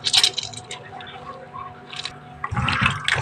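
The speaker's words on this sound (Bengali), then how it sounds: "লেবু দিয়ে ধুয়ে নিতেছি ভালো করে।" Loitta fish is washed with lemon by hand, giving soft wet squishes and splashes in short bursts, quiet through the middle and louder at the end, with no talking.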